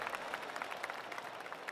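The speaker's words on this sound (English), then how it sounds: "Oh, that's a crowd groaning." A video game crowd in a golf match reacts with a faint, steady murmur of many voices, a low, distant wash of crowd noise with no clear individual words.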